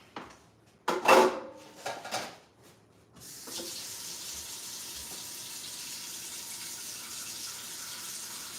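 Kitchen tap runs steadily for rinsing during meal prep, a constant close hiss of flowing water after a few brief clatters of handling.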